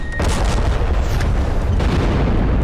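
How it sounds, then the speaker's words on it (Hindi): Booming cannon fire from a Zorawar light tank firing rounds in the cold desert of Nyoma, Ladakh, two heavy blasts with rolling rumble between them, loud and close. "भारतीय सेना के सबसे नए जोरावर टैंक ने कई राउंड"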